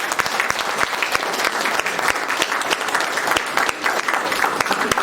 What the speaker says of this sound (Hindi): तो तालियां आपको जाती हैं।